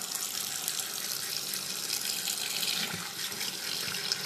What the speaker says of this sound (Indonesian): Lalu kita akan cuci terongnya.